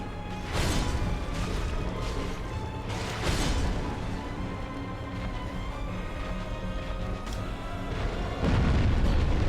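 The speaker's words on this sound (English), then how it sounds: "the explosion is bad." Heavy, booming explosions go off during a boss fight in Dark Souls Remastered, with repeated deep blasts over a continuous loud rumble of game sound and no voices.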